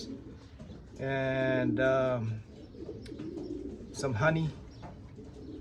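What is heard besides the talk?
pigeons cooing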